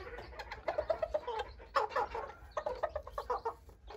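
A young Kikiriki Azteca rooster clucks in a barnyard with other chickens: a run of quick, repeated, fairly near clucks and calls with no talking.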